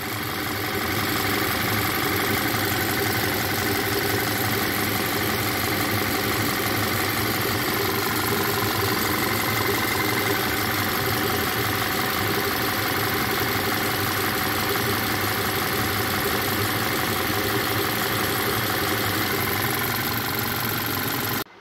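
A 2014 Volkswagen Tiguan with the 2.0 TSI engine idles steadily during a cooling system drain, fill and bleed service, a constant close mechanical hum and light clatter running without change, no voices.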